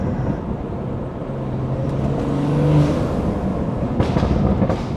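A 500 hp BMW 340 F30 being driven with a modified intake and exhaust rumbles steadily from inside the cabin, the engine note swelling briefly mid-drive over road noise.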